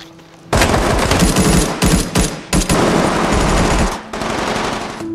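Soldiers fire guns in a war film: loud, sustained bursts of automatic gunfire with brief pauses between volleys, harsh and close, with no voices over it.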